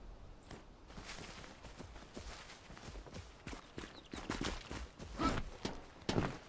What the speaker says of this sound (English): Oh, I like the footstep sounds on that.